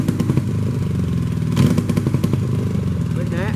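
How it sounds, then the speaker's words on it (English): Hondamatic motorcycle engine idling in neutral with the kickstand down, a loud, close, steady pulsing chug with a brief clattering bump midway. "now with the kickstand down in neutral, I have a two-step"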